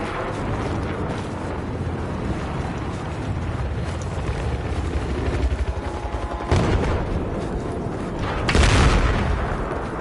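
Battlefield 4 combat with machine gun fire rattling under heavy, rumbling battle noise, broken by two loud booming bursts toward the end.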